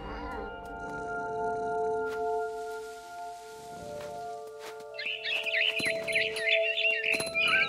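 In What Remains of Edith Finch, a cat's meows come in the second half of the clip. The cries are clear and repeated, over a held musical drone from the game score.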